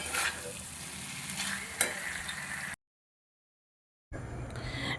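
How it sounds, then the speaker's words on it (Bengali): Fried paneer stirred through spice masala in a pan, giving a close, steady sizzle with scraping stir strokes, a sharp clatter near the middle, then a sudden gap of silence before the frying resumes. "মশলাটা আমি খুব ভালোভাবে কষিয়ে নিয়ে ভেজে রাখা পনিরটা দিয়ে দিলাম এটা দিয়ে দু মিনিট কষাবো"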